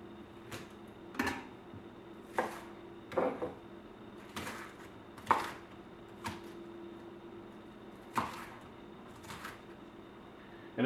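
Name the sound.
chopping a slice of Chinese cabbage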